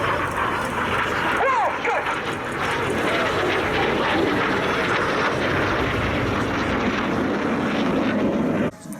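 A Red Arrows display jet trailing white smoke at an Armed Forces Day air show roars overhead in a loud, sustained whoosh that rises and fades. A commentator talks over it throughout.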